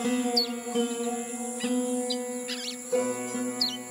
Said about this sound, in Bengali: শুনতে পাচ্ছ? পাখিরা আবার ফিরে আসছে